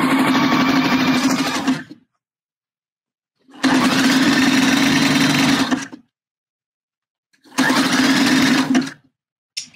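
Sewing machine stitching sheer bra fabric in three sustained runs of a steady, close, loud hum, each lasting about two seconds and separated by silent pauses.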